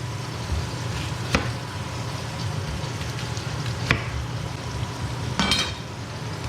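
Beef pot roast sears in a hot pot with a steady, close frying sizzle throughout, broken by a few sharp clicks and scrapes of utensils or cookware.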